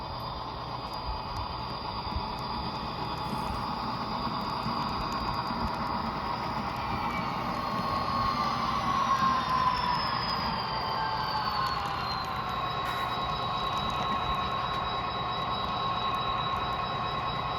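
Athearn SD40R model train locomotive coasting to a stop after running at full speed, a faint steady whirring rumble with a high thin whine that slowly drops in pitch, continuous and alone.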